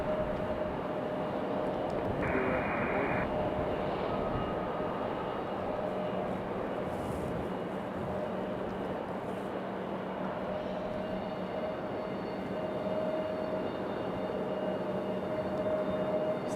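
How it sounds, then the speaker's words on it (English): A CRJ regional jet's engines drone with a thin whine, steady and fairly distant, as it gets ready to taxi at Raleigh-Durham International Airport, with no talking over it. "Sounds like our little CRJ is ready to get a move on."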